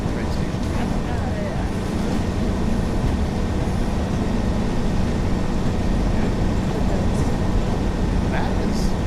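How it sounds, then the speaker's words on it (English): Train riding toward Blackpool North, a steady broadband rumble of rolling wheels and carriage noise with faint wind buffeting, continuous and even throughout. "thanks for sticking by for this train ride"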